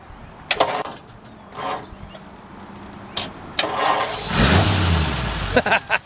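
A 1940 Ford Deluxe Convertible engine cranks with a few sputtering turns, then catches and roars to life before settling; clicks and knocks punctuate it.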